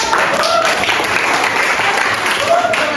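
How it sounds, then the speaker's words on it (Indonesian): Students applauding in a mathematics classroom lesson, a dense continuous patter of clapping filling the room at close, loud level, with a faint whistle-like tone briefly audible under it. "Tepuk tangan buat mau."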